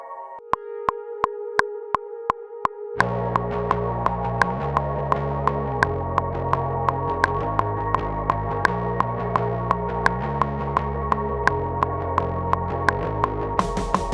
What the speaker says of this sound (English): I'm gonna use this dirty tape loop synth